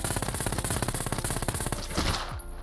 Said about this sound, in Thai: อันนี้เดี๋ยวเราจะทดสอบด้วยปืน AS v a l กันบ้างนะครับ